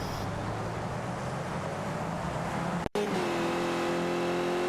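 Sim racing cars bunched up through a corner at Canadian Tire, a continuous close engine roar with a brief cutout near three seconds, followed by a steadier tone, with no talk.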